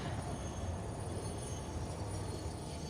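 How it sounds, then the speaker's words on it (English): A train rolling through a factory in the VR game Satisfactory, a steady, dense rumble with wheel and rail noise filling the whole stretch, loud and continuous with no talking. "I have to wait for this train to go."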